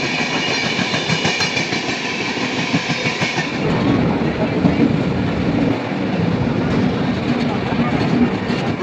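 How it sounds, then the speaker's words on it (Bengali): Mirzapur–Anand Vihar Express rolling past a stopped train near Prayagraj, a loud close rumble with rhythmic wheel clatter that grows heavier midway and continues steadily. "দেখতে পাচ্ছ মির্জাপুর আনন্দ বিহার এক্সপ্রেস পাস করছে"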